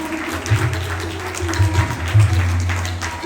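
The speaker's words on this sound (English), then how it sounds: "Huge round of applause" Applause from an audience at a government event marking a campaign anniversary, called for as a standing ovation for Amitabh Kant; steady clapping sits over a loud low hum and tonal background music.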